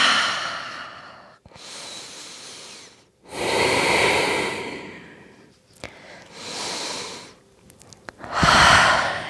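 Slow, deep breathing fills a yoga forward fold, with long audible inhales and exhales alternating with quiet pauses, close and clear, with faint snort-like nasal breaths and no talking.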